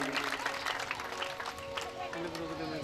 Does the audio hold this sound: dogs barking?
no